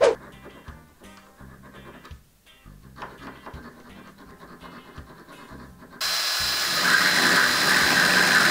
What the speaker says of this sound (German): Also ich versuche die jetzt trotzdem einfach mal sauber zu bekommen, hier mit der Feile durchzugehen